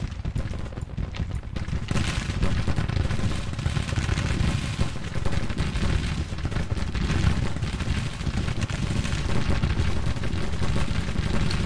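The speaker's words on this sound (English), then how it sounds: "Give them some cannon support." Cannon and artillery fire in a Civil War battle in the strategy game Grand Tactician: The Civil War, heard as a dense, unbroken roar of booming shots and crackling gunfire at steady loudness throughout.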